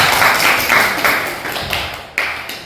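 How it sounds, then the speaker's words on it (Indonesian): A classroom audience gives a short burst of applause, with scattered overlapping claps and taps that fade over a few seconds. One sharper clap lands near the end. "berikan aplaus ya"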